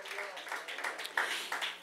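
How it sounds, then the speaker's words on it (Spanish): Brief, soft applause from a church congregation, a short patter of hand claps rising and thinning out with a faint murmur of voices. "Dele un aplauso al Señor, hermano"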